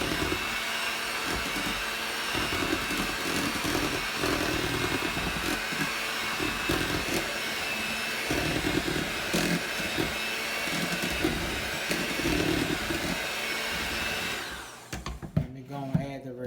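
Electric mixer beating lemon Bundt cake batter on slow as flour goes in, a steady loud whirring drone that runs without a break and then cuts off, leaving brief clatter near the end.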